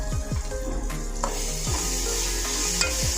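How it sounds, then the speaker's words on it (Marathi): Asafoetida and turmeric stirred into hot oil in a pan, a steady close sizzle with repeated scraping and clinking spoon strokes against the metal. "आपण ह्याच्यामध्ये हिंग टाकून घेऊया थोडंसं आणि हळद टाकून घेऊया थोडीशी हे चांगलं मिक्स करून घेऊया"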